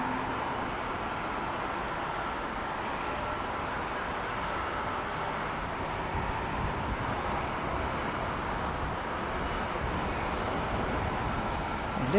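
Jet airliner on approach to Heathrow in gusty crosswind conditions, a steady broadband roar of engines and rushing air holding at constant loudness throughout, no voices heard.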